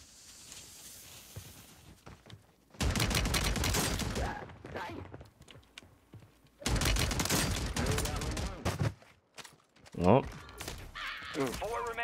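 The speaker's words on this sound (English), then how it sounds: "I gotta use the shotgun" Shotgun fire in the Warzone video game on Rebirth Island comes as two dense, loud bursts of blasts separated by quieter stretches, with a voice talking around them.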